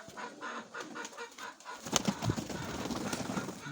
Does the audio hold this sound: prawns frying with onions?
no